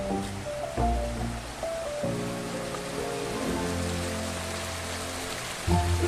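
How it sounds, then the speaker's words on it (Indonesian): Fast-flowing river water just below a spring among trembesi and gayam trees, a steady broadband rushing wash that runs continuously and fairly loud with no voices. "sungai yang airnya mengalir cukup deras"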